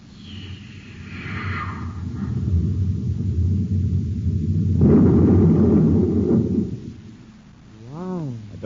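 Space torpedo explosion in an old-time radio drama, Space Patrol: a loud rolling blast that swells into a long rumbling roar and tapers off, with a warbling electronic tone at the tail.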